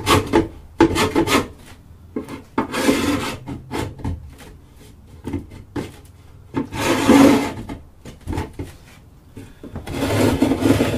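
A tungsten scraper rasps hard propolis off a wooden Langstroth beehive box in close, gritty strokes that come in bursts with short pauses between them; no one speaks.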